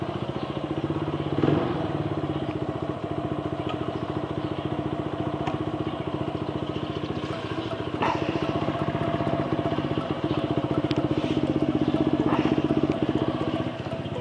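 A Vperman 150 motorcycle engine runs steadily at idle close by, a continuous buzzing drone with faint mechanical clatter and a few small throttle changes, no voices.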